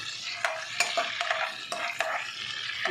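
Cumin seeds dry-roasting in a melted butter cube for a corn capsicum curry, with a steady sizzle broken by repeated scraping stirs of a spoon against the pan, close and loud.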